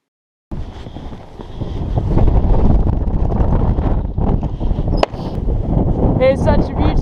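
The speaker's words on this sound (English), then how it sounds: "Even the wind is not half bad." Wind gusting across an open hilltop above Cheddar Gorge in the Mendip Hills, a loud, steady broadband rush buffeting the microphone throughout, with a sharp knock partway and faint chirpy bird-like calls near the end.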